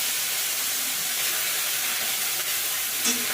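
Shrimp fry in hot oil with a constant bright hiss and sizzle, even and fairly close, with no voices.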